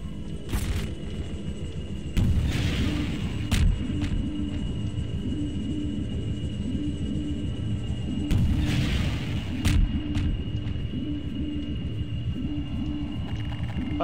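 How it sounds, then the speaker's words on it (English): In Half-Life 2, a rocket launcher fires at dropships, sending out a few heavy booming blasts over a constant low mechanical drone, with the loudest bursts near 2 and 8.5 seconds. "What would happen if I tried rocket launching them instead?"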